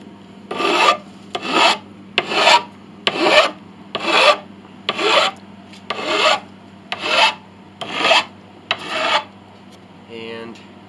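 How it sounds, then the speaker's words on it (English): A hand file flattens the tops of piano bridge pins during a Mason & Hamlin CC rebuild, giving ten steady, evenly spaced rasping strokes at close range with a low hum underneath. "I am now filing the tops to make them nice and flat, getting rid of all the jagged"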